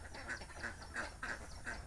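Ducks quack repeatedly near a garden pond, about five loud calls in a steady rhythm, close by, with no talking.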